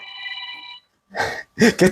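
A mobile phone ringtone chimes loudly during a church sermon, a tonal ring that stops after under a second, followed by short bursts of a man's speech.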